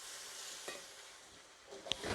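Soft sizzling with a few faint scrapes of a spoon stirring sambal in a pan, quiet and close, no voices.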